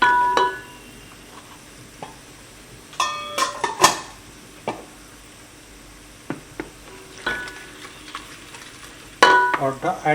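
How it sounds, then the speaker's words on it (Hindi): Masala roasts in a pan for soya biryani, sizzling steadily while a spatula stirs and clatters against the metal in short bursts, with no voices. "अच्छे तरह से हमने मसाले को भूनना है।"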